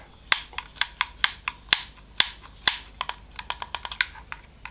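A series of sharp plastic clicks from a Gamesir T4C game controller's analog stick, single and in quick pairs, close up and crisp against a quiet background.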